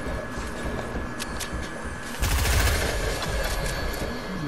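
Gunfire in a solo-versus-squad battle game: a few sharp isolated shots, then a dense, louder burst of rapid firing over steady background game noise.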